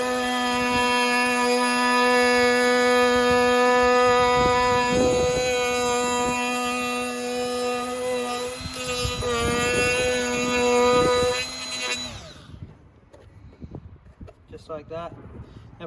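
A power tool grinds away a section of tailgate trim during a Richards Auto light install on a Land Cruiser LC200, giving a steady, loud, high whine that runs for about twelve seconds and then cuts off, leaving quieter handling noise behind.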